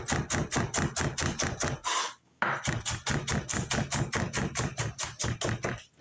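A kitchen knife rapidly minces a jalapeno on a cutting board, with dense, steady chopping taps up close, a brief pause near the middle, then more fast rhythmic strokes.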